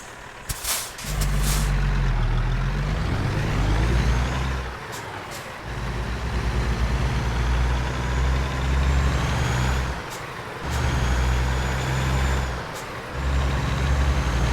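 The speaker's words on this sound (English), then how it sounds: "Kind of sounds like one of the other trucks from American Truck Simulator" Peterbilt 386 truck engine in American Truck Simulator, a deep steady diesel drone that rises and drops through gear shifts with short pauses and air-brake hisses, heard alone without talk.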